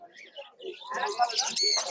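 Caged lovebirds, budgerigars, cockatiels and finches at a bird market chirp in a quick run of tweets and whistles, close and moderately loud, with a brief voice mixed in.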